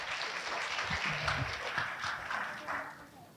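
An audience applauds at a policy discussion on ASEAN and Indonesia's chairmanship. The clapping is a steady, fairly faint patter of many hands, and a few voices murmur underneath.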